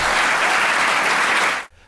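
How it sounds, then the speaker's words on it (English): Loud, sustained applause from a crowd at a Waltham School Committee public meeting for local educators, a dense steady roar of clapping that cuts off abruptly near the end. "each drawing loud applause"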